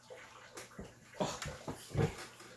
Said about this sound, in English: My rambunctious little puppy.